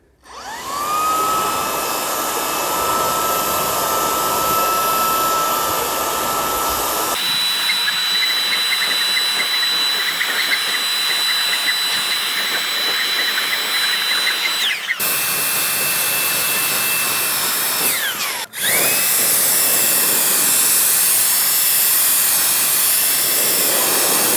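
A cordless GTM SG18/700BL paint sprayer runs with paint through a 2.5 mm nozzle, giving a loud, steady high-pitched motor whine and hiss. It stops briefly and restarts several times, with no talking.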